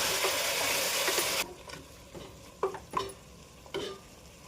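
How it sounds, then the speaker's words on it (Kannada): Mutton sizzling in a frying pan with turmeric, a loud hiss of frying that cuts off abruptly, followed by a few distinct scraping stirs of a utensil against the pan, close and without talk. "ಒಂದು ಸ್ವಲ್ಪ ಅರಿಶಿನ ಹಾಕಿ ಮಿಕ್ಸ್ ಮಾಡೋಣ ಚೆನ್ನಾಗಿ."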